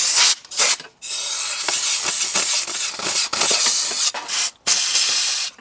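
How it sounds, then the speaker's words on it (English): Compressed air blasts dust out of the valve cover on a 1980s Yale/Eaton forklift in loud, close hissing bursts, several long blows separated by brief abrupt cut-offs. "I'm gonna blow this out and hopefully clean out the interior of the valve cover."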